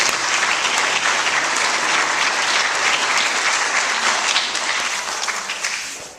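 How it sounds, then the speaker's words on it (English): Sustained audience applause fills a meeting room, dense and steady from start to finish before tapering slightly at the end, with no talking over it. "So give them a round of applause, please."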